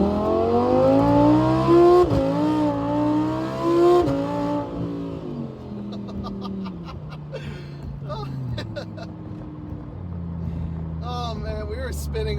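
Lamborghini Huracan accelerating hard in first gear with wheelspin, a loud, close engine howl rising in pitch then dropping at the shift, followed by lower revving with sharp crackles and pops.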